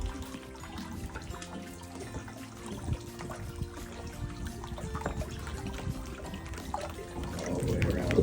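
Water dripping and trickling down a rock face in a canyon below Hoover Dam, heard as close, irregular drips and splashes over a soft running-water wash that grows louder toward the end.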